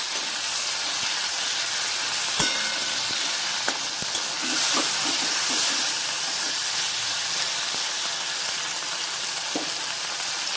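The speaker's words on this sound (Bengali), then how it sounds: "ভালো করে ভেজে নিচ্ছি টমেটোটা।" Tomatoes frying in a pan for a mustard hilsa curry, giving a steady close sizzle and hiss with a few soft stirring knocks scattered through, and no voices.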